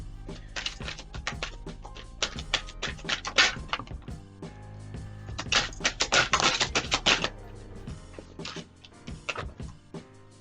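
Tarot cards are shuffled close by in quick rattling bursts, riffling and tapping in uneven clusters with brief pauses between.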